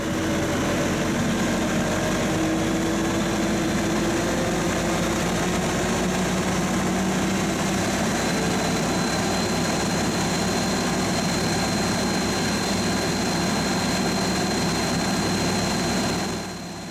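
A tractor engine drives a brush hog, holding a loud, steady drone with a deep low rumble and a high whine through the whole stretch before easing off right at the end.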